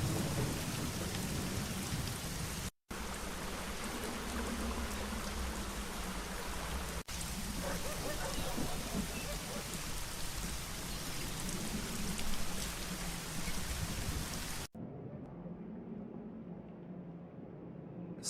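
Heavy rain pours steadily in the video game Secret Files: Tunguska, a dense roaring hiss with deep thunder rumbling underneath, holding loud and close before dropping off abruptly near the end.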